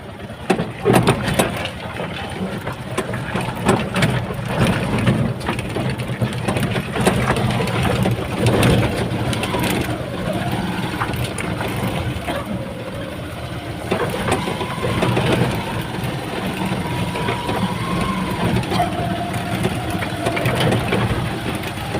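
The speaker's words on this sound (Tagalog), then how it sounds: "Bago tricycle nila yan." A new tricycle's motor idles steadily at a constant loud level with a mechanical rattle running through it, and occasional higher whining tones rise and fall over the continuous running.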